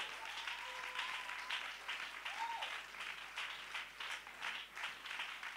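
A church congregation applauds steadily throughout, a soft, even wash of many hands clapping at a distance, fairly faint, with a brief tonal voice or note drifting over it.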